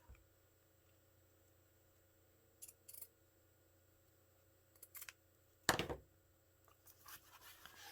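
Scissors cutting a piece of fabric for a file folder folio journal cover, a few brief close snips with one sharper cut near the end, faint paper-like rustle in a quiet room.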